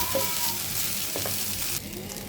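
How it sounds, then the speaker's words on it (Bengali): Cooked rice frying with spices in a pan gives a steady, close sizzle with light stirring scrapes throughout, the level dropping slightly near the end. "সুন্দর করে আমি ভাতগুলোকে ভেজে নেব"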